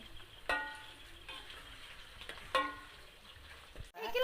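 Fish being stirred and mixed with spices in a pan for rica-rica, a faint low sizzle broken by a few sharp clinks of a utensil against the pan, close and without talk.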